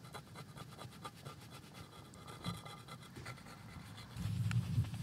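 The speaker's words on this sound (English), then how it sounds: "Let's try the Magic Eraser on the marker." A Magic Eraser is scrubbed over marker on a quartz countertop, giving close, quiet, rapid back-and-forth rubbing strokes that grow slightly louder and lower near the end, with no one talking.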